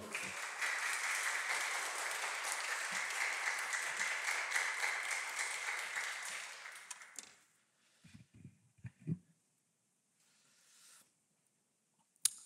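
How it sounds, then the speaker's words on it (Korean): A church congregation applauds to welcome a preacher, sustained dense clapping for about seven seconds that tapers off into a quiet room with a few scattered knocks. "나오실 때 박수로 환영해 주세요."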